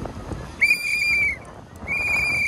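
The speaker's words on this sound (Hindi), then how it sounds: "अच्छा मारो मारो सीटी जरा" A person whistles two long, steady, shrill notes, loud and close, each held under a second with a short pause between, over faint background noise.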